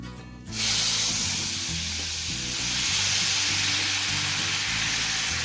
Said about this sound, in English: You do want it hot like that so it sizzles when you put your first scoop of beans in there.